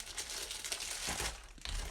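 A crinkly mail package is torn open by hand, giving a steady, close rustling and crackling of wrapping over a couple of seconds.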